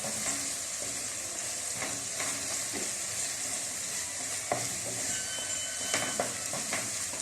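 Mutton liver masala (kaleji) frying in a pan, a steady, even sizzle with soft scraping stir strokes and occasional clicks, continuous throughout and fairly close.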